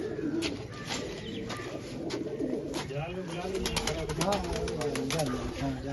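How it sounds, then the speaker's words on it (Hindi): Several Rampuri desi pigeons coo in low, throaty rolls over a busy loft with scattered clicks and chirps, nearby and continuous. "जो ये हमारे रामपुरी देसी कबूतर है"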